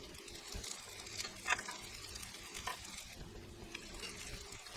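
Breaded chicken for chicken parmesan cooks in a pan, giving a faint, steady sizzle with light crackles and pops and no talking.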